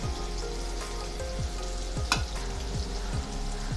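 Green chillies and curry leaves fry in a pan with a constant loud crackling sizzle, plus a repeating low thump from stirring and one sharp scrape, close and with no speech.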